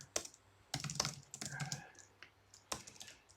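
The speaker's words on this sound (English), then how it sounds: "If I can type" Keystrokes on a computer keyboard in bursts of quick, close clicks with short pauses between runs, fairly quiet against a low steady hum, while entering commands on a single-node OpenShift setup running on ARM hardware.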